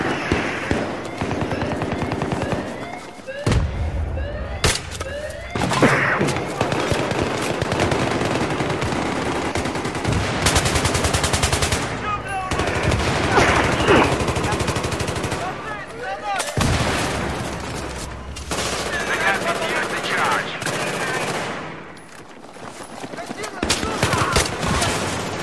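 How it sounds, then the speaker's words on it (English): A Battlefield 3 firefight produces a loud, sustained barrage of rapid automatic gunfire with heavier booms, broken by a few brief lulls, and occasional voices under the din. "Barrage of fucking fire."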